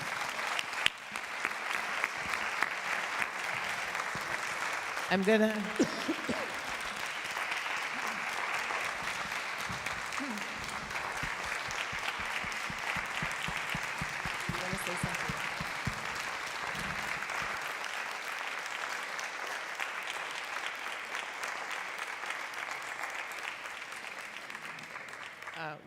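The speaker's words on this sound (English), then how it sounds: "Well, I think we all owe you a big round of applause." An audience gives a long, steady round of applause, dense clapping that carries on for nearly half a minute, with brief voices audible early on.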